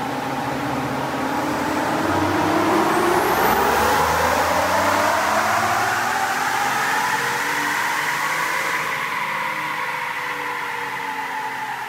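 A 2020 Ford F-150 FX4 truck engine roars loud and steady on a dyno pull, its pitch climbing smoothly through the revs with no voices over it.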